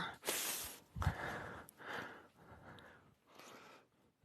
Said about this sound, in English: I don't know why I'm sniffling.